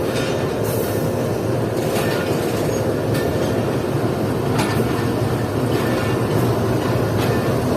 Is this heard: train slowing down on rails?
yes